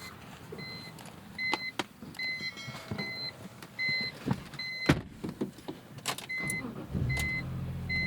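A 2001 BMW M3 E46 with about 40,000 miles: soft cabin chimes and clicks come first, then the engine catches near the end and settles into a low, steady rumble close by.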